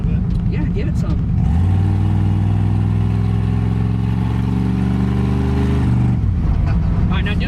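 A 1972 Chevy C10 pickup truck engine rumbles low, then climbs in a strong accelerating roar for several seconds before dropping back, with people talking before and after the run.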